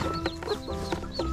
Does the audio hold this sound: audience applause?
no